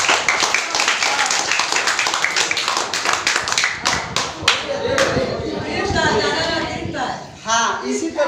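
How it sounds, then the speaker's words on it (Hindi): An audience at a meeting claps loudly in a dense, sustained burst of many hands. The clapping thins into scattered claps toward the end, while a voice talks over it. "हम सभी बच्चे लोग से चाहेंगे कि एक बार जोरदार ताली बजाइए"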